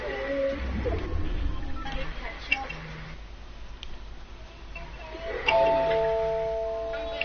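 A doorbell chimes during a Fortnite match, its ding-dong tones ringing out clearly once near the start and again more strongly toward the end, with game sounds and a voice underneath.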